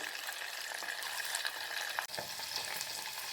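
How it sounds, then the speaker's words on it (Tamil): Dried fish sizzles and fries in a pan for a village-style dried fish curry, a steady, dense crackle that runs the whole time. One brief stir or scrape breaks it midway, and no voices are heard. "கருவாட்டை பெரட்டி வச்சுருக்கேன் கீழ்பாகமும் நல்லா பொரியட்டும்"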